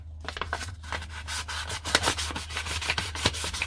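P800 wet-and-dry sandpaper rubs back the paint on a door mirror cover in quick, close back-and-forth strokes, a rhythmic scratchy rasp of about five strokes per second under a low steady hum, with no talking.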